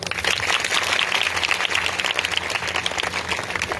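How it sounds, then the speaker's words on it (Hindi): A church congregation claps for a young man, a sustained round of many hands at moderate loudness with a fluttering, uneven rhythm. "भाई के लिए ताली बजाइए"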